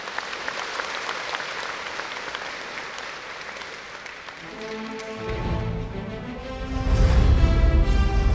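Audience applause at a Korean national foundation day cultural festival, a steady wash of clapping from a large crowd that swells louder toward the end.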